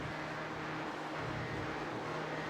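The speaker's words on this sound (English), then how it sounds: "You can just listen to the engine sound barely not lifting as the cars make their way up the top of the mountain" A GTE race car engine at Spa-Francorchamps in a sim racing game drones steadily at a constant pitch, distant and fairly quiet, with no talk over it.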